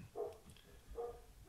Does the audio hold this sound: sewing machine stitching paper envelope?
no